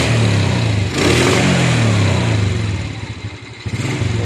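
A Raider J motorcycle engine with a fault that makes it nearly stall revs up loudly as the throttle is squeezed, a steady close idle rising into a rough rev, then sagging and sputtering unevenly toward the end.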